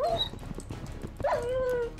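Dogs barking in the Minecraft video game, a pair of short yelps over busy game sounds and background noise.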